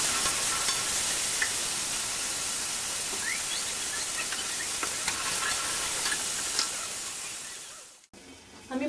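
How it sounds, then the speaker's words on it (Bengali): Bay leaves and white cumin seeds sizzle in hot oil in a home kitchen, a loud, close, steady crackling hiss with occasional stirring scrapes that cuts out briefly near the end, with no talking. "আর এদিকে দিয়ে দিচ্ছি তেজপাতা আর পাঁচফোড়ন।"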